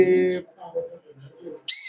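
Parrots at a ringneck parrot breeding farm give short, harsh calls, with one burst at the start and another at the end and quieter chatter in between.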